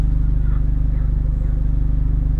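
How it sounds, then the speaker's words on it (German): A car engine holds a slightly raised idle, a steady, close, pulsing low rumble that continues evenly from start to end, with frogs faintly audible nearby. "Das, was ihr jetzt hört, außer den Fröschen nebenan, ist nun der etwas erhöhte Leerlauf."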